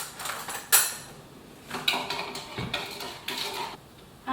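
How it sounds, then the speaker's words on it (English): A spoon stirs a mixture with caster sugar in a bowl, giving several sharp clinks and scrapes against the side in an uneven rhythm, close and clear with no talking. "Now give it a good stir"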